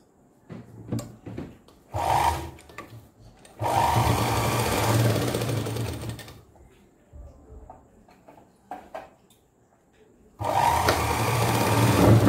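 A sewing machine stitches a homemade cloth diaper for a newborn in several close bursts of steady mechanical whirring, some short and some several seconds long, separated by quiet gaps with faint handling noises.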